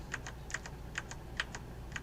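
Computer keyboard arrow keys are tapped repeatedly, crisp clicks in quick pairs at an irregular pace, close and fairly quiet, with no talking.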